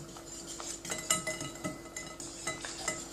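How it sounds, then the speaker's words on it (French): Yogurt cake batter is stirred in a bowl, with light clinks and taps of a utensil against the side in an irregular rhythm. The sound is close and fairly quiet, with no talking. "On va mélanger un tout petit peu."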